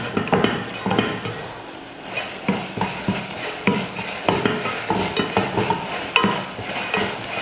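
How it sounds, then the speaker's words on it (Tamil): Constant sizzling from a hot pan of spices with turmeric for rasam while a utensil stirs and scrapes in quick, repeated strokes, with no one speaking. "அடுத்து கொஞ்சம் மஞ்சத்தூள் சேர்த்து வதக்கிடுவோம்."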